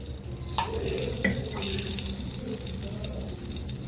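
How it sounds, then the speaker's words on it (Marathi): Tap water runs steadily into a sink while grated sweet potato is washed, producing a close, continuous splashing flow with faint clatter from handling. "याला धुवून घेणार आहे पाणी टाकणार आहे"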